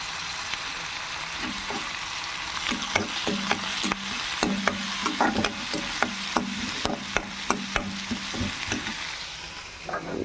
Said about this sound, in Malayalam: നന്നായി ഒന്ന് ഇളക്കട്ടെ. കൂടെ കറിവേപ്പിൻ്റെ ഇല ഇടാം കേട്ടോ.